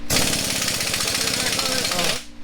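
An impact wrench rattles in a loud, continuous hammering burst for about two seconds while tightening bolts on a Jeep with a 4.0L straight six, then cuts off abruptly.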